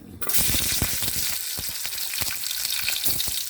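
Garlic fries in a hot pan with a loud, continuous crackling sizzle and scattered pops, close and steady throughout.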